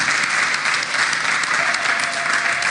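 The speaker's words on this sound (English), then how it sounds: "Encore plus fort les applaudissements" A conference audience of communicators in Kigali, Rwanda, applauds steadily, a dense, loud, continuous clapping that holds evenly for the whole stretch.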